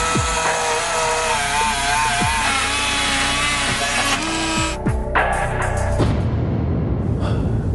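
A power saw cuts through rivets on a safe, whining steadily with shifting pitch as the blade bites metal, loud and close, then the cutting tone drops away near the end.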